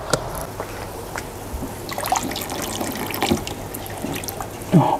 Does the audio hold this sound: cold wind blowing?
no